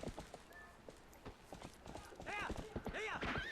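Horse hooves clip-clop in Zelda: Twilight Princess, a steady run of light hoof beats mixed under game music and effects, with people talking over the gameplay.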